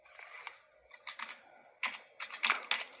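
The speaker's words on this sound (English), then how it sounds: "So I'm just going to type that in." Code being typed on a computer keyboard in the Java IDE NetBeans, bursts of close, crisp key clicks separated by short pauses, with no voices.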